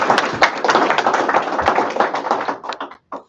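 Applause from a crowd at a legislative session recap meeting, a dense run of many hands clapping close and loud that thins out and stops near the end.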